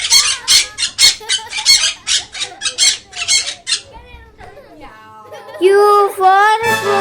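Squawks from a parrot in a children's phonics alphabet song, a run of sharp rapid calls followed by longer harmonic screeches, loud and close with no talk.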